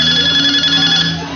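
A cellphone rings at a variety-show broadcast, a steady electronic ringtone with sustained tones that holds loud and close for the whole moment, no voices over it.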